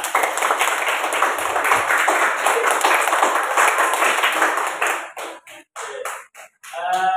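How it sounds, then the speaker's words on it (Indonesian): Classroom applause from students, a dense steady patter of many hands that fades and breaks into a few scattered final claps near the end. "tepuk tangan untuk semuanya"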